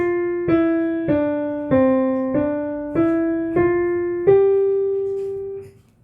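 A descending five-note pentascale played as evenly spaced, decaying notes, each one ringing briefly before the next, with the final note held and fading out in a quiet room.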